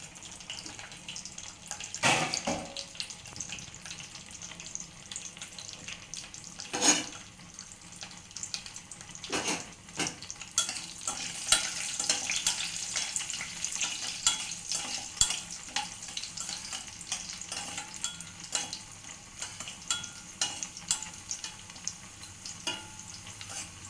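Cashews, raisins and cardamom roast in a pan over a gas flame, giving a steady soft sizzle with a few sharper stirring scrapes and knocks, heard alone without talk.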